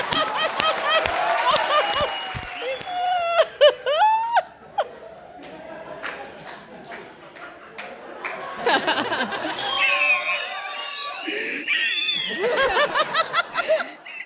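A studio audience at a television comedy show applauds and laughs in bursts, loud and close, with a performer's voice speaking over parts of it.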